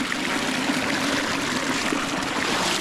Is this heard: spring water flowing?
yes